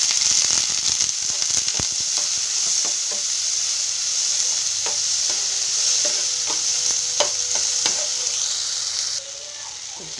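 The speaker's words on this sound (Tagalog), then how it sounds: "Igisa lang natin. Tapos lagyan na natin ng kamatis." Garlic, onion and tomato sauté in a hot pan with a steady, close frying sizzle throughout, scattered with sharp clicks and scrapes from stirring, which ease off slightly near the end.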